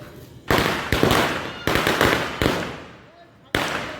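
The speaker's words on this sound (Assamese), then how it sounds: "এতিয়া মানে দিনৰ দিনটো ৰাতিটো অকল ধুমধামহে আৱাজ শুনিব ইয়াত" Diwali firecrackers burst in Siliguri: about six sharp, loud bangs at uneven intervals, each followed by a brief crackling decay.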